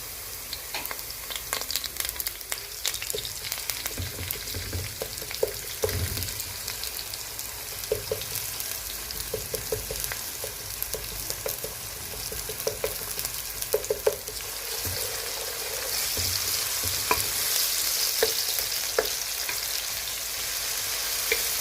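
Ginger garlic paste sizzles steadily in hot oil for pilau, with intermittent scraping and stirring clatter of a spoon against the pot throughout, close and continuous.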